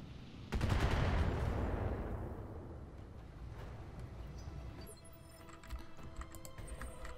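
Gunfire in the video game Flashpoint: a loud burst of shots at the start that fades into a dense rattle of continuing fire and scattered distant cracks.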